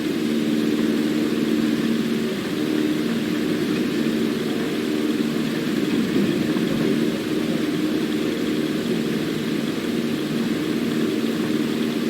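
A small propeller airplane's engine drones steadily at full power through a takeoff roll, a continuous, even roar that stays loud and unbroken from start to finish with no voices.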